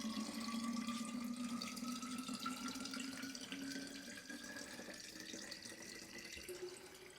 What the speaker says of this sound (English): And we'll fill it up with fridge water.